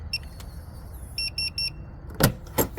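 A few short electronic chirps sound from a Latch It RV door lock, then a sharp mechanical clunk of the lock releasing, followed by a second lighter click.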